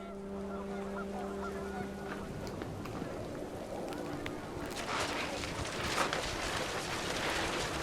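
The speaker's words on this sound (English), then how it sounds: "The wind picked up, and panicked geese appeared and quickly went." Panicked geese honk in the video game What Remains of Edith Finch, a few brief calls heard early before being swallowed by a rising roar of wind and heavy rain.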